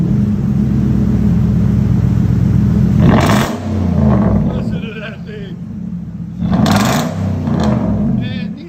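A 2011 Nissan Titan Flex Fuel 4x4 with a 5.6-liter V8 and true dual exhaust with 6-inch tips rumbles loudly at idle and rises in two sharp revs, with someone talking over it.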